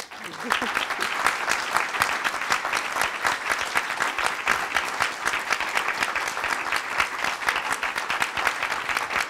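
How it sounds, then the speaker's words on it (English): An audience gives a warm, sustained round of applause for an honored guest at a talk event, dense clapping that holds steady for about nine seconds with no voices over it. "Professor Muholi, welcome with a warm round of applause."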